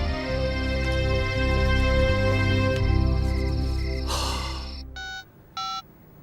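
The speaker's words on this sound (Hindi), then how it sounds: "गुप्ता जी का फोन था।" A telephone rings in a home, first under a sustained musical backdrop, then two short, distinct rings stand out alone near the end.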